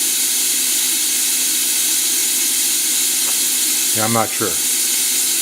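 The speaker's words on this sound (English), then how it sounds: "it is running with air blast on now. With no coolant in it, just air." A coil winder machine runs steadily with an air blast on and no coolant, giving a constant broadband hiss throughout, with a brief spoken remark near the end.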